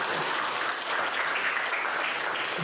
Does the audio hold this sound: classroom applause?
yes